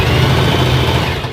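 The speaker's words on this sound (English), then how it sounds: "I'm going to start sewing all the way around that sleeve. We use a zigzag stitch for that." A sewing machine runs a zigzag stitch around the sleeve of a faux fur jacket, giving a steady, close, continuous motor drone with a low rhythmic hum and no pauses.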